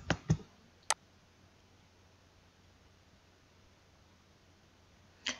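Computer mouse clicking: a few sharp, close clicks in quick succession, then a long quiet pause before one more click.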